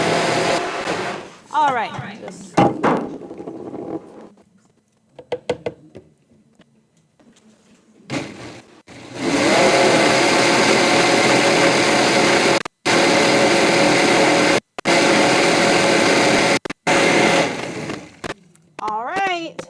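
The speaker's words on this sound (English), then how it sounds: "I'm sorry not all of you can see that blending." A countertop blender runs loud and close during a cooking demonstration, whirring in several long bursts with brief pauses, and a person speaks in between.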